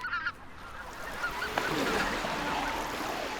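Several barnacle geese honk at a distance over a steady wash of wind or water noise, calls scattered and fairly faint, in Matsalu National Park.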